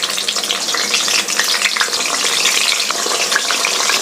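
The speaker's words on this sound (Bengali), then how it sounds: "এখন কড়াই গরম হওয়াতে আমি তেলের ওপর এই বেগুনগুলো ছেড়ে দিচ্ছি।" Eggplant pieces fry in hot white oil in a wok, giving a dense, steady sizzle with crackle that stays close and constant, with no voices.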